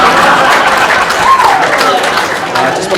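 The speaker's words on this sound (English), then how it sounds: "Can you give us a round of applause?" Wedding guests applaud briefly in a room, a loud wash of clapping and crowd noise lasting a few seconds.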